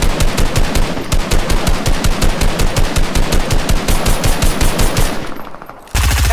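Rapid automatic gunfire from an online shooter video game, loud, sustained bursts of fast machine-gun fire that run for about five seconds before cutting off, with no talking.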